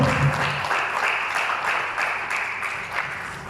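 A church congregation claps during a sermon, a steady wash of applause with a faint voice at the start, fading slightly as it goes on.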